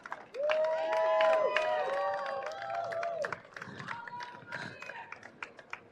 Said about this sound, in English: All of that love and clapping is for you.